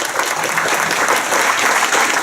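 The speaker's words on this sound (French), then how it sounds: "Merci, on peut l'applaudir." An audience at a 2017 French legislative campaign meeting breaks into dense, sustained applause, loud and continuous with no distinct individual claps standing out.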